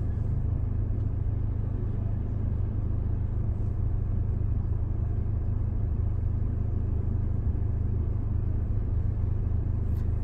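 A car drives along North Franklin Street toward Garden City in Hempstead, New York, a steady low engine and road rumble that stays even and continuous, heard from inside the vehicle with no talking.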